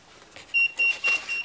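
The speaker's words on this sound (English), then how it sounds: "This guy right here telling me he's powering down to save his battery." An electronic device gives a short series of three or four high, clean beeps as it powers down to save battery, fairly faint and alone.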